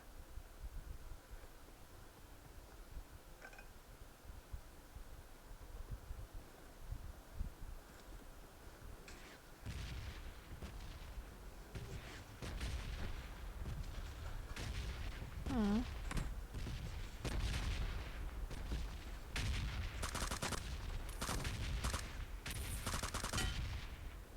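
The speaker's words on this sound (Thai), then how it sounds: "อุ้ยพี่มาร์คระเบิดเปิดระเบิดในบ้านเลย" Bursts of gunfire and grenade explosions from a battle royale shooter game, including a grenade blast inside a house, sparse at first and then dense and loud, with faint voices underneath.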